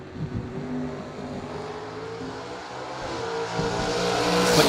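Drag racing cars launch down the strip, a Chevy Vega in the right lane. Loud, rough engine roars rev and build steadily, rising in intensity toward the end with no voices.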